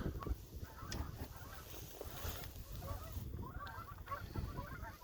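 Geese honk repeatedly in the background outdoors during a hunt for agates along a road, the calls fairly faint and scattered over steady wind or ambient noise.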